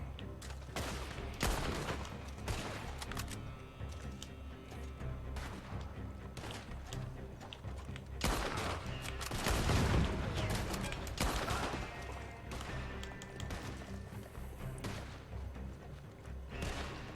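Rifle gunfire and a dense fusillade during a Red Dead Online shootout, with loud repeated shots and booms over game noise and occasional talking.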